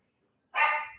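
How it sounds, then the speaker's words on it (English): A single sharp dog bark rings out close and loud after half a second of near silence, ending in a short tail. "So if I wasn't antsy enough, then they start barking."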